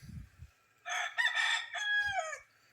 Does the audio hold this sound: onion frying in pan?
no